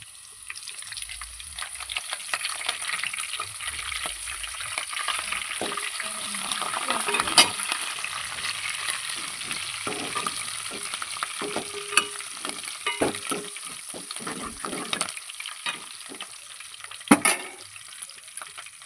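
Curry leaves fry in a pan with a loud, steady sizzle, broken by spoon scrapes and a few sharp clinks, including a louder clatter near the end.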